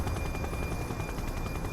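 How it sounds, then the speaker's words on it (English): Steady thrumming rotor and engine drone of a news helicopter flying overhead in a police video game, a dense continuous roar with no speech, loud and close throughout. "the #1 news chopper in Averno City"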